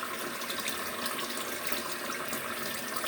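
Water pours steadily from a tap into a portable washing machine, a constant hissing, splashing rush heard close and alone without pauses.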